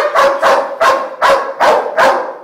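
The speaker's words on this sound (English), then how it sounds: "I can get him to start barking without telling him to bark." A police dog, a trained K-9 working with verbal commands and hand signals, barks six times in a steady, evenly spaced series, loud and close, with no talking over it.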